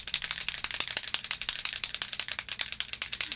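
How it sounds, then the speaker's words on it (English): A can of spray foundation shakes hard, the mixing ball rattling in a fast, steady series of sharp clicks close by with no talk. "I'm going to give my spray foundation a nice big shake."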